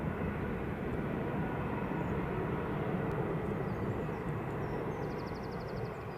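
An Embraer jet takes off and climbs out at Edinburgh airport, its engines a steady, broad roar heard from a distance that holds evenly for several seconds with no voices.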